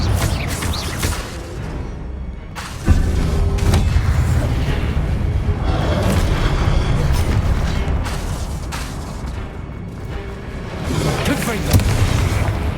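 Repeated booming blasts of the Confringo explosive spell in the video game Hogwarts Legacy, with heavy low rumble, a sharp hit near the start and sustained loud crackle under a player's intermittent voice.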